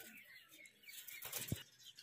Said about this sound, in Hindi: हुण कबूतर उड़दे भी तुहानू मैं दिखाना।